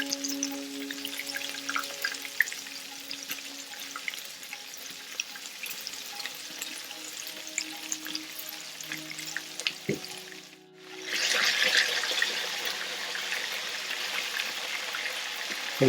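Chicken pieces deep-frying in hot oil, a dense continuous bubbling crackle close up, dipping briefly quiet before surging louder and fuller for the rest, no voices heard.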